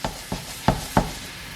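Chopped garlic stirred in a hot pan, sizzling with four distinct scraping strokes over a steady frying hiss, close and fairly loud, no talking.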